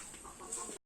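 A chicken clucks in a short close burst, several quick soft notes over a faint hiss with no talking, ending abruptly.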